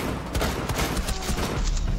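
Rapid bursts of gunfire in the video game Rainbow Six, several sharp close shots in quick succession over about two seconds, loud and dense, with no talk over them.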